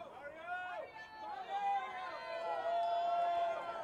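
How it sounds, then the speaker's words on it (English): Spectators at a professional racquetball singles final cheer and shout in a continuous swelling roar, with excited voices rising above the crowd noise throughout. "Wow, the crowd's going crazy for Mario."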